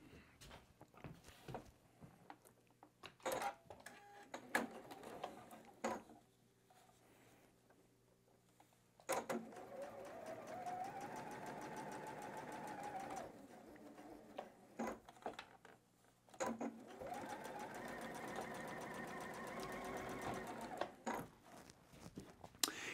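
A sewing machine chain-piecing batik fabric blocks, running in two sustained whirring stretches with mechanical clicks and handling noises between them, faint and close.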